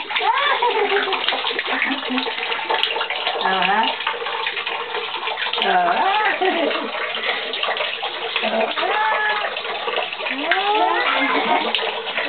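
Water splashes and runs in a bathtub while a small child plays, a steady wash of water sound with the child's babbling and an adult's voice over it.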